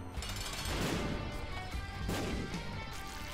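Two bomb explosions in the video game The Binding of Isaac: Repentance, heard as separate heavy crashing blasts about a second and a half apart over a continuous game soundtrack, with no talking.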